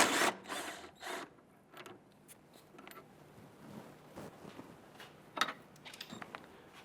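Close, quiet mechanical clicks and taps come from a wrench loosening and removing an 18mm sway bar end link bolt on a 1999-2004 Jeep Grand Cherokee, irregular and sparse with brief pauses between.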